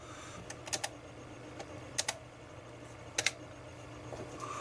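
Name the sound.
typing on ZX Spectrum 128K +2 keyboard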